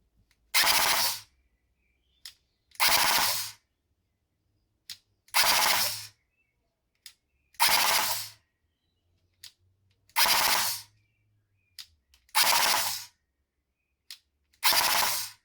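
Airsoft gun motor driven by an Arduino MOSFET in burst mode, firing seven short rattling bursts at a regular pace, each about half a second long, separated by silence and faint clicks, close and without talk.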